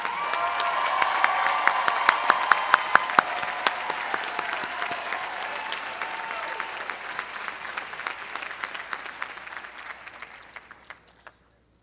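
Commencement audience at Pitzer College applauding collectively, a sustained wash of clapping that swells early and gradually fades out over about twelve seconds.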